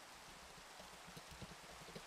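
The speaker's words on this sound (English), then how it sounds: "Oh, it's raining again." Minecraft rain in a video game, a steady, faint, hissing wash of falling drops with a few soft patters, continuous and even from start to end.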